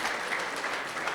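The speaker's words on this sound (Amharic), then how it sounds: "አጨብጭቡ ለጌታ።" A church congregation clapping for the Lord, a brief burst of steady, moderately loud applause from many hands.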